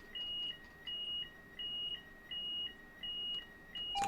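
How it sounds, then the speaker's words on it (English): Warning alarm in a train cab in Train Simulator 2022, aboard a Class 802 on the Liverpool to Manchester route, giving six evenly spaced electronic double-tone beeps, clear and alone over a quiet hum. "So cancel that alarm off."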